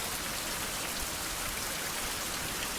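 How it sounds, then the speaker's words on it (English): Heavy stormy rain in a survival video game pours steadily as a dense, unbroken hiss of drops, loud and even throughout. "It's very dark, it's very rainy,"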